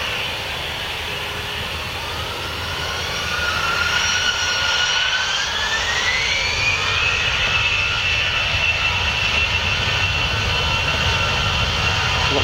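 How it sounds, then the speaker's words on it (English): A jet airliner's engines roar steadily during takeoff on runway 25 at Luton Airport, a broad sustained rumble that swells and stays loud, with a rising whine sweeping upward through the middle of the sound. "A lot quieter engines on this one."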